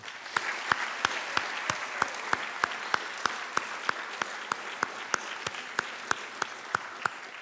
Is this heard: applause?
yes